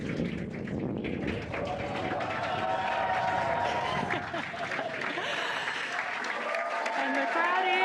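A spectator crowd applauds and cheers steadily as a Falcon 9 first stage touches down on Landing Zone 1 during a crew launch to the space station, dense clapping with voices mixed throughout.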